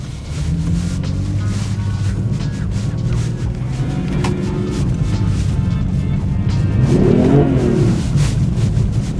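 BMW F82 car engine revving as the car sits stuck in deep snow, a loud continuous drone that rises and falls, then climbs to a higher rev near the end, with wind buffeting the microphone.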